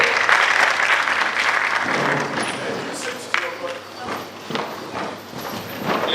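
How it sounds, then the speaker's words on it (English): An audience applauds at a gathering before an opening prayer, a steady wash of clapping and crowd noise that thins out toward the end, with voices audible underneath. "Come with a big round of applause."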